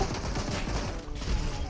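Dense gunfire from a video game: rapid overlapping shots and bursts of automatic fire roar continuously and loudly throughout, with no talk over them.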